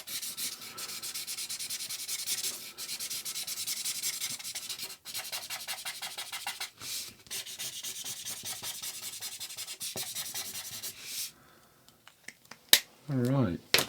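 A marker scratches across paper while drawing, making rhythmic, close raspy strokes in bursts with short pauses, followed by a few louder handling noises.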